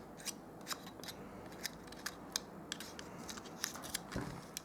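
Scissors repeatedly snip paper for card-making, a steady series of sharp clicks and rustles, faint and close, with no voices.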